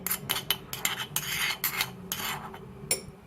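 A spoon stirs warm milk and instant yeast for donut dough in a bowl, giving a series of close, quiet scraping and rasping strokes in an uneven rhythm with light clinks against the bowl, with no talking.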